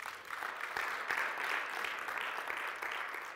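A church congregation claps for the Lord during a fasting and prayer service, a continuous, fairly soft patter of many hands with a few sharper claps poking through, heard at some distance.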